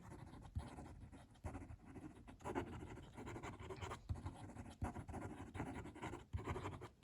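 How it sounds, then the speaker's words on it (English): A fountain pen with a stiff nib writes quickly on paper, giving a steady run of close, scratchy strokes with brief pauses between words. "Quick writing."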